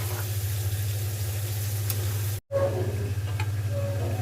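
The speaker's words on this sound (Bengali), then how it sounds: "পেঁয়াজ কুচি, রসুন কুচি, কাঁচামরিচ, লবণ, হলুদ আর চিংড়ি মাছ দিয়ে বেজে নিচ্ছি।" Prawns frying with chopped onion, garlic, green chilli, salt and turmeric give a steady close sizzle in the pan, broken by one brief silent gap midway, with a constant low hum underneath.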